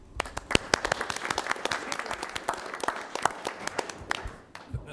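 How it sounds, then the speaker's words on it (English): Audience at an SFO community roundtable meeting claps steadily for several seconds, dense overlapping hand claps at a moderate distance that thin out near the end. "I just want to give you a round of applause and wish you well"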